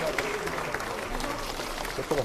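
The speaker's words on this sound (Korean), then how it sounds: "여러분 모두 박수로" Applause breaks out from the audience at a People Power Party lawmakers' general meeting during a bouquet presentation, a steady dense patter of many hands mixed with some crowd murmur and voices.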